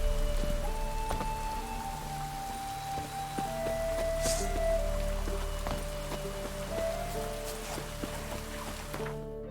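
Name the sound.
heavy rain in a video game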